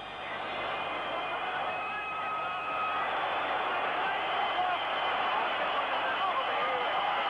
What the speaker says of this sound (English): The crowd's going quite frantic